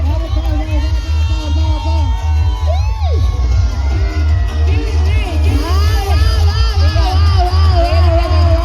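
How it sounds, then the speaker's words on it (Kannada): Loud crowd at a live stage event cheering, whooping and clapping after a call for applause, a dense, steady roar that continues throughout, with an announcer's voice and shouts rising over it. "ನಮ್ಮ ಗಿಲ್ಲಿಯವ್ರಿಗೆ ಜೋರಾದ ಚಪ್ಪಾಳೆ"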